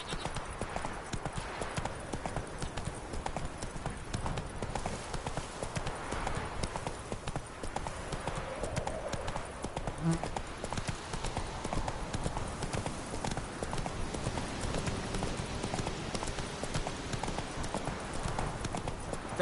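Hooves of the horse Roach clip-clopping in a steady, continuous rhythm across a dirt path in The Witcher 3 video game, close and constant beneath a low ambient backdrop.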